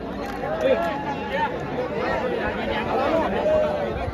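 A large crowd chatters and murmurs at a bull race, forming a dense, continuous babble of many overlapping voices outdoors, fairly loud and steady, with no single voice standing out.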